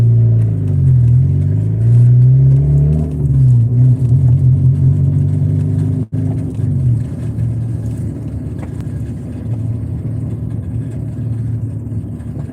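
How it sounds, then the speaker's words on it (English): A car engine rumbles through a loud muffler, a deep throaty idle that rises and wavers early on, then settles into a steady low drone with one sharp knock midway. "Yeah, it's my muffler."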